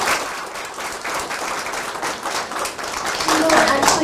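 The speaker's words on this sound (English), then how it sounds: "big round of applause" Applause at a school board meeting for a staff member, a steady round of clapping from an indoor audience with voices mixed in underneath, swelling slightly toward the end.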